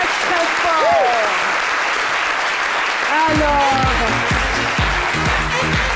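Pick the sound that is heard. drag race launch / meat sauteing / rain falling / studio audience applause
studio audience applause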